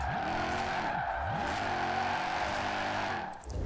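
An SUV on drag tires with a swapped engine drifts in the racing game Forza Horizon 4, its engine revving up and down in repeated sweeps while the tires squeal steadily underneath, loud and continuous.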